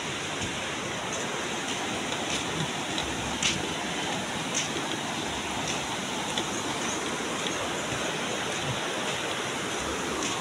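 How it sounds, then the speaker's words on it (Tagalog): Rain falling outdoors on a mountain path, a dense, even hiss of drizzle that holds steady throughout with no voices. "Ulan pa rin mga paps."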